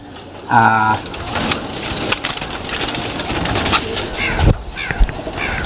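A pigeon kept by a fancier gives a short, clear coo near the start. Wooden knocks and scraping follow, with people talking nearby.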